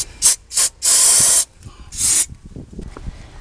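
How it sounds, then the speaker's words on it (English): Brake cleaner sprayed onto new front brake rotors of a 2014 Chevy Tahoe LT 4x4, four sharp aerosol hisses, three short bursts and one long one, close and loud, with a final shorter spray before quiet shop noise. "I like to hit these with some brake clean before putting the wheel back on"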